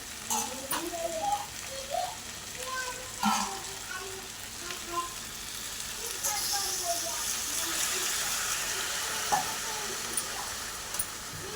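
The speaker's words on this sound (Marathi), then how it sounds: "मी आता आता थोडंसं पाणी टाकूया" Water is poured into potatoes frying in a pan, producing a soft hiss and bubbling sizzle that continues steadily at low level while someone speaks.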